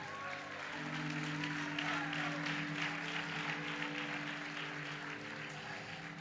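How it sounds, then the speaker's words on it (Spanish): Church congregation clapping, a soft, continuous wash of hands beneath sustained organ or keyboard chords, somewhat distant and mixed with faint voices. "Dele palmas al Señor."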